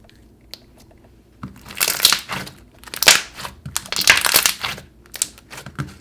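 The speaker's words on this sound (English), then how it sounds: "I actually really love popping the little jelly cubes" Jelly cubes squished and popped in white glue slime, a close wet crackling and crunching that swells in repeated bursts after a quiet start.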